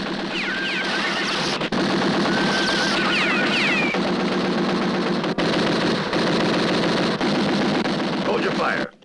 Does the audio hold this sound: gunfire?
yes